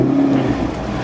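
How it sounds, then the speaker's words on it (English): A 2025 Chevrolet Corvette E-Ray starts up close by and settles into a low, steady engine rumble with a brief rising tone, lasting about a second with no talking. "So the car fires up."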